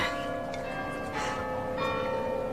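Church bells ringing, with sustained overlapping tolls and humming resonance at moderate distance, several strikes swelling and decaying across the span, with no talk.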